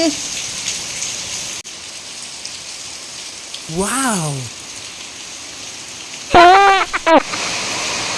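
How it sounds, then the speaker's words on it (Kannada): Steady rain falls in Manipal, Udupi, a continuous even hiss of drops on surfaces, with two short tonal calls breaking through mid-way and near the end. "ಅದೆಷ್ಟು ಕತ್ಲೆ ಆಗಿದೆ ನೋಡಿ ಈ ತರ ಎಲ್ಲ ಮಳೆ ನೋಡ್ತಾ ಕುತ್ಕೊಳ್ಳಿಕ್ಕೆ ಖುಷಿ ಆಗುದು"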